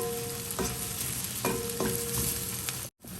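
Onions for a dosa filling fry in a pan with a steady low sizzle, punctuated by a few sharp clicks and scrapes of a spatula stirring, close and quiet, followed by a brief dropout near the end.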